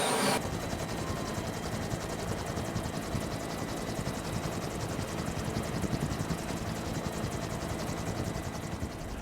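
Loud, steady rhythmic whop of a Vietnam War-era Huey helicopter's rotor blades throbbing close by with a continuous engine drone.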